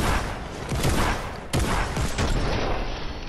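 Pistol gunfire in a video game, heard as a dense run of sharp overlapping shots with a heavy burst midway, loud and close throughout.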